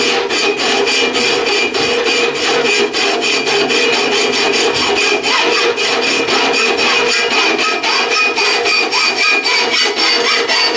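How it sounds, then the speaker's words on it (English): A standard hacksaw cuts by hand in loud, steady back-and-forth strokes, each stroke a rasping scrape that repeats in a regular rhythm, close up and with no voices. "I'll use the standard hacksaw now, and you can see how long it takes"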